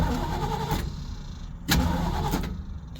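1982 Ford Mustang engine cranking repeatedly without catching, a close, low mechanical churning broken by a few sharp clicks and surges, heard alone with no talk.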